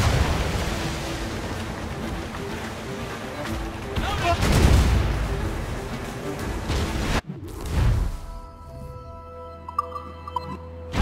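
Ship cannons boom in a naval battle in Assassin's Creed Rogue, heavy rumbling blasts under game music and shouted orders, then a sharp cut to quieter battle ambience with distant impacts.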